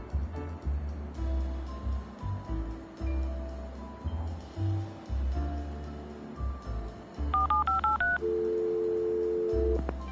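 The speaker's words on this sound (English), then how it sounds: "I'm gonna dial K even if it doesn't work." Phone keypad tones in Leisure Suit Larry: Wet Dreams Dry Twice, several short dialing beeps in quick succession followed by a steady tone, over rumbling game ambience and waves.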